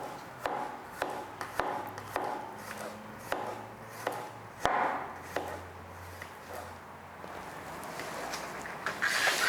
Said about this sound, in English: Thinly slice the peeled garlic.